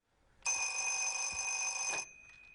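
A telephone in a film rings once with a bright, steady electronic bell tone that lasts about a second and a half, clear and alone, then cuts off into a quiet room.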